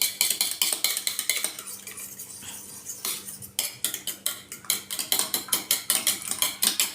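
Spoon scraping and clinking against a bowl as masala is stirred into beaten eggs for an appam egg curry, a rapid rhythmic series of close, bright strokes with a brief pause midway.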